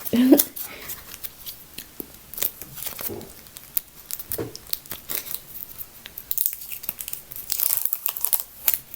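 Adhesive tape is peeled away in crackly, uneven bursts, close up, with rustling and crinkling between pulls.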